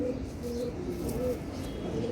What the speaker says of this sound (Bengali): এটা হলো সিলভার কবুতর